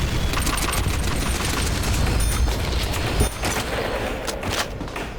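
A Kalashnikov rifle fires in the Nazi Zombies mode of Call of Duty: World at War, giving loud, dense, rapid automatic gunfire in a continuous stream with booming impacts that ease slightly toward the end.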